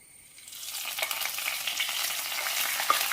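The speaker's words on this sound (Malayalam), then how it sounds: "കടുക് വറുത്തത് ഇതിലേക്ക് ചേർക്കാം." Fried mustard seed tempering poured into carrot kalan, a close, steady hiss of sizzling that swells after a quiet start and holds for a few seconds with no voices.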